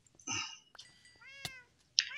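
A wither cat from the Minecraft modpack FTB Void World meows several times in quick succession, close and clear, with a higher yowl at the end and no talk.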